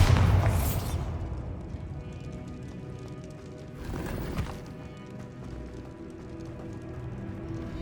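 Bombarda spell explosions blasting a barricade in the Hogwarts Legacy video game: a loud burst at the start and a second blast midway, with a rumbling game backdrop between them.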